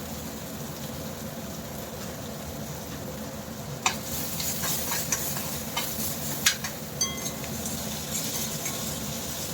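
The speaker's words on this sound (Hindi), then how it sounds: "तड़के को पका लेंगे अच्छे से" Tadka for bottle gourd curry sizzling in hot oil, a constant crackling hiss with a few sharp clinks and scrapes of a spoon against the pan partway through.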